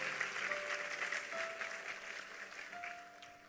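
Faint applause from a church congregation rises and holds steady at a distance for a few seconds, with no talk over it.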